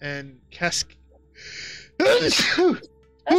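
A person sneezes loudly and close once, in the middle of a tabletop game session, with brief talk and a sigh before it and more voices after.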